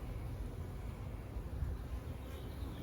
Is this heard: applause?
no